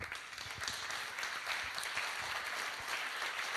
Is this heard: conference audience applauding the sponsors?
yes